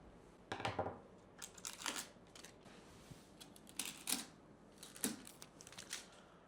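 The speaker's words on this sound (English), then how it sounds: "Remove the blue tape." Blue protective tape being peeled off an Anycubic Photon P1 resin 3D printer, a few separate ripping and crinkling bursts with quiet pauses between, close and fairly faint.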